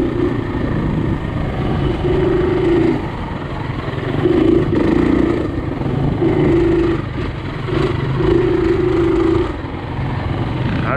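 KTM 350 dirt bike on slick muddy Michigan singletrack, engine note rising and falling in repeated short throttle bursts over a steady running drone, close and continuous with no voices.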